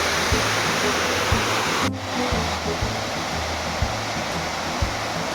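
Water flowing at a lake or waterfall gives a steady, dense rushing roar that fills the whole clip, with evenly spaced low thuds repeating underneath and a brief dip partway through.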